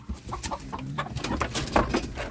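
Chickens cluck in a farmyard, with short bursts of clucking and scratching close by while low farmyard noise runs underneath, no voices heard.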